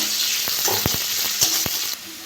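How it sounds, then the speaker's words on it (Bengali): Green chilli frying in a pan for egg Maggi, a steady close hiss of oil with a few sharp clicks and scrapes from stirring. "একটা কাঁচা লঙ্কা দিয়ে দেবো একটু ভেজে নেব"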